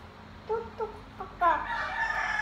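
A rooster crows nearby in short broken calls, then a louder full cock-a-doodle-doo, heard fairly clearly over a quiet outdoor background.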